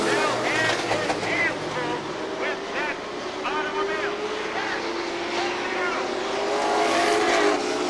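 Race cars circle Seekonk Speedway in a close five-car battle for fourth place, a continuous loud engine roar with rising and falling pitch sweeps as cars pass, while an announcer talks over the din throughout.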